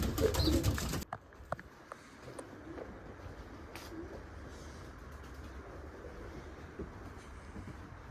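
Racing pigeons coo softly inside their loft, low murmuring calls scattered across a quiet background after a brief loud burst of noise at the start.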